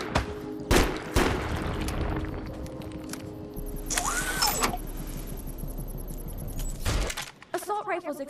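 Gunfire in the video game Deviance, several sharp bursts of shots and a loud automatic volley amid mechanical game noise, with someone talking over parts of it.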